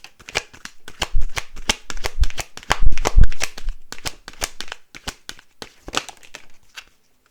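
Tarot cards shuffled by hand up close, giving loud, crisp riffling bursts and flutters in irregular bunches with brief pauses, and no talking over them.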